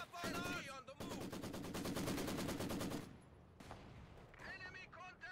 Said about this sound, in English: Taking MG fire! They've opened up on us!